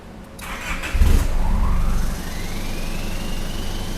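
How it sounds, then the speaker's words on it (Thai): A 2012 Isuzu D-Max 2.5 pickup truck engine cranks and catches with a loud low burst, then settles into a steady rumbling idle close by. "ขออนุญาตสตาร์ทเครื่อง นิดนึงนะครับ"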